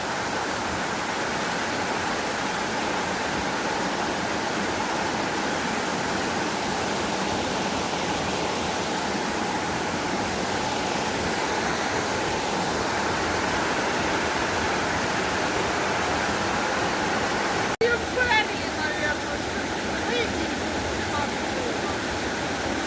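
A steady, loud rush of flowing water fills the air continuously in a mountain setting, broad and unbroken like a stream or small waterfall close by.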